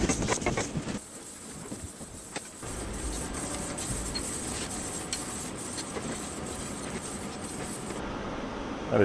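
A metal lathe hogs heavy cuts from a large metal part, giving a steady, dense grinding roar with a faint high whine, unbroken and close throughout.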